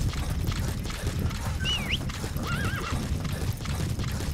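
A horse in Metal Gear Solid V: The Phantom Pain gallops with steady clip-clop hoofbeats and lets out two short whinnies partway through, fairly quiet and without talk.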